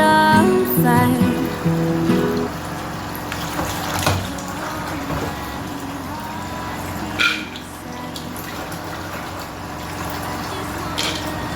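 Breadfruit being washed by hand in water: splashing, sloshing and trickling with occasional sharp knocks, loudest early on and then settling into a steadier wet churn.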